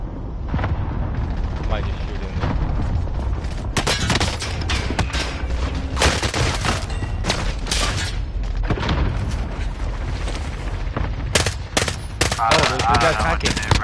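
Dense shooter-game firefight: near-constant machine-gun bursts and heavy booms crowd together loudly, with voices talking over the chaos.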